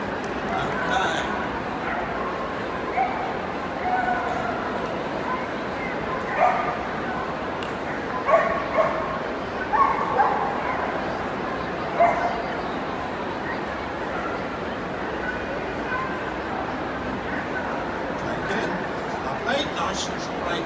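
Short yips and barks come from a dog at Crufts during a display team demonstration, scattered through a noisy arena crowd while a voice talks over a loudspeaker.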